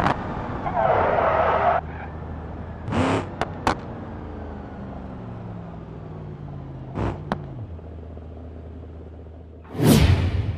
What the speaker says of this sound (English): Our next vehicle is the Ford Mustang. Let's see if the Mustang can reach its goal.